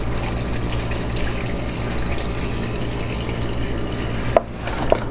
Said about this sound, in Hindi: अब हम इसमें 2 लीटर पानी डालेंगे।